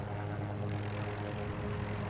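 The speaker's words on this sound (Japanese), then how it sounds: "あ、これ輸送ヘリかな。" Transport helicopter flying overhead in the Battlefield 2042 beta shooter, a steady droning rotor and engine hum holding at even loudness throughout.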